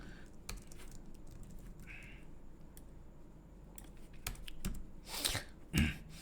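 Fingers tap quietly on a computer keyboard while JavaScript code is typed, with scattered soft key clicks close by and a slightly louder cluster of clicks near the end.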